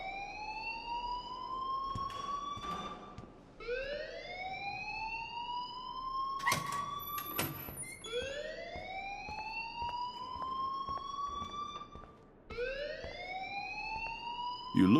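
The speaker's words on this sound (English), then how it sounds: "please turn off that alarm since that's your job" A school fire alarm in Life is Strange wails in repeated rising electronic sweeps, loud and continuous across the clip, with faint clatter and movement underneath.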